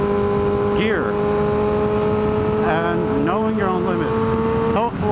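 A vehicle speeding through a canyon, its steady engine drone holding level with pitch sweeps as it shifts and carries on, while a person talks over it throughout.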